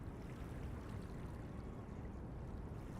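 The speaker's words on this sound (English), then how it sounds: "the lapping of the water on the docks. It's a really soothing sound" Water laps steadily against wooden docks, a continuous low wash and splash with no distinct breaks, close and moderately loud throughout.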